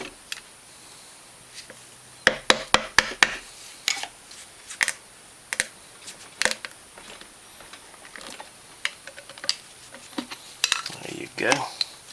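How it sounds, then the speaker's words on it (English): A screwdriver prying at a part during disassembly of a Kawasaki Brute Force ATV motor: sharp metallic clicks and scrapes arrive in irregular clusters, close and moderately loud, with brief clattering toward the end. "Can't quite get it pried back far enough to catch a screwdriver in it."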